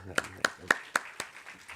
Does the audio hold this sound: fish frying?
no